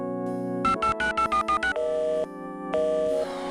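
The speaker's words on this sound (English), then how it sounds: "The line's busy." A payphone in the game Dark Seed II beeps through a quick run of dialing tones, then two longer tones sound with a gap between them, clear and prominent.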